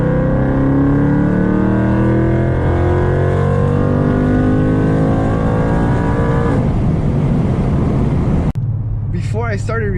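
A 2018 Ford Mustang GT in track mode accelerates hard, its engine note climbing steadily and loudly for several seconds before breaking into rougher roaring noise, then cutting off abruptly near the end.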